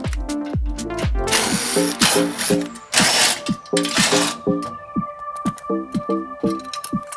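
Power tool spinning out four 9/16 socket shipping brace bolts on a new front load washer, with repeated short bursts of whirring and clicking separated by brief pauses, loud and close.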